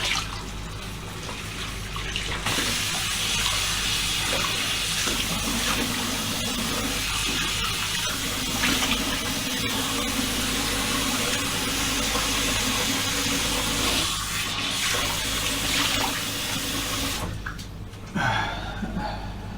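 Tap water runs in a steady, loud rush for most of the stretch during face washing before a shave, with brief splashes and a pause near the end as the flow cuts off.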